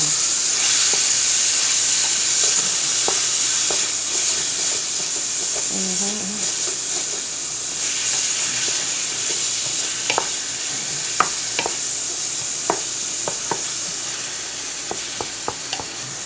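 Seasoning is stirred into baked ziti. The mixing gives a steady hiss and soft scraping, with a few sharp clicks and taps toward the end.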